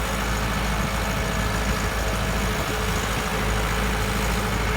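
A Massey Ferguson tractor runs in a farm field, its engine giving off a loud, steady, unbroken diesel drone from start to finish, with no voices.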